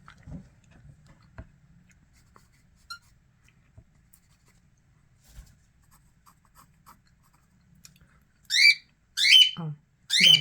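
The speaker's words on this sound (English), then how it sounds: "If you hear the bird chirping" Near silence with faint scattered ticks, then three loud, sharp bird chirps close by in quick succession at the end.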